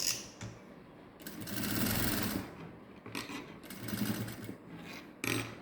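A sewing machine runs long stitches on a satin blouse with balloon sleeves and a princess cut. It comes in several close, rapid whirring bursts with short pauses between them.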